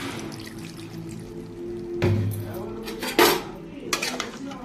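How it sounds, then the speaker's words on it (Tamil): Water is poured into a pan of chicken feet pepper gravy during home cooking, with clinking of metal utensils against the pan and a few short splashing pours over a low background hum. "இப்போது தேவையான அளவு தண்ணி ஊற்றி வேக வச்சிடலாம்."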